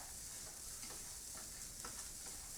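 Carrots and beans sauté in a pan with a steady, soft sizzle. Faint stirring scrapes sound through it, and no one speaks.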